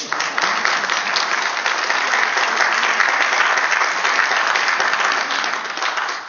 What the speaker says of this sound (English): let's give my father a round of applause too